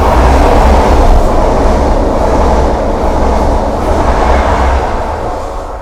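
A train runs through Blair Atholl Station, a live rural railway station, without stopping, a loud, steady rumble of wheels and carriages that holds for several seconds, then eases slightly toward the end.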